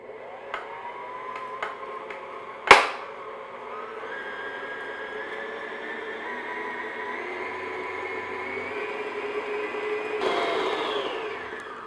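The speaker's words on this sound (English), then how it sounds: "just beat this medium-high speed until everything gets mixed together" Electric hand mixer whirring steadily at medium-high speed as it beats coffee cake batter in a bowl, a continuous motor drone with a sharp knock near the start and a brief louder surge near the end.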